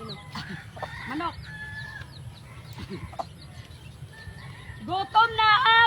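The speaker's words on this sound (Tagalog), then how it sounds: "Manok." Backyard garden chickens cluck and squawk nearby in short, irregular bursts, with a louder burst of calls at the end and people talking quietly in between.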